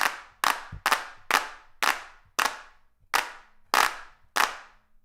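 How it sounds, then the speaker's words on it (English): Sharp synthetic hand claps from the Palmas clap machine, a Max for Live device, ring out about nine times in a loose, uneven rhythm. Each is loud and dry with a short decaying tail, alone with no talk. "We got Palmas, crazy clap machine."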